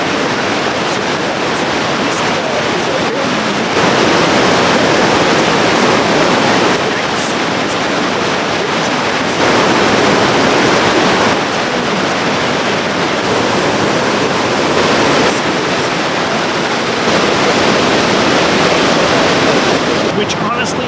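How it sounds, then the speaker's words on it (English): Rushing water from a Pacific Northwest forest waterfall roars as a steady, loud broadband wash, swelling and easing slightly in waves over about twenty seconds, with no clear break. "Let's talk about waterfalls and hydrology."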